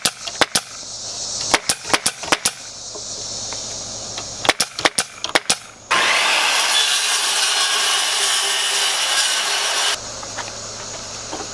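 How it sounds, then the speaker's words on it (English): A handsaw cuts through a wood plank with quick rasping strokes in bursts, then settles into a long, steady, continuous sawing stretch before ending in quieter scraping, all close up. "I'll just saw it all out from the back"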